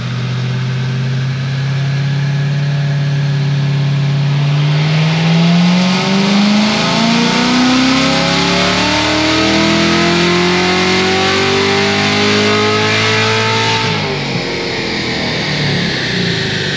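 Corvette C7 Z06 with headers and an air intake revving on a dyno, a loud sustained engine note climbing steadily in pitch through a full-throttle pull before easing off near the end.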